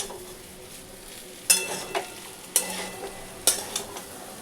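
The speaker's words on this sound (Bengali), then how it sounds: "দিয়ে এটাকে আর একটু ভাজা ভাজা করে নেব" Poppy seeds fry in mustard oil in a pan with a soft steady sizzle, broken by three sharp stirring scrapes at even intervals, close and fairly quiet with no talk.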